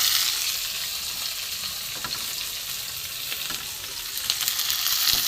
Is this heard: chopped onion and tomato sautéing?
yes